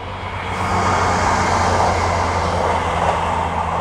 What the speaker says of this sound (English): Train coming, you have to excuse me there